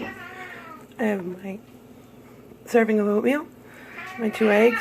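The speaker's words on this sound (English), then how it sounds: "Sorry for the cats, they're fighting." Cats fighting at home in the morning, with sharp yowls and meows flaring up in three short bursts around 1, 3 and 4.5 seconds over someone talking about her breakfast.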